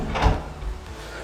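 A toughened glass sliding shower door in a luxury bathroom gives one brief slide and soft thud, close and fairly loud, with a quiet room tone after.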